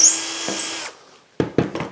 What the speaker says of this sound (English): I'm going to drill those holes now.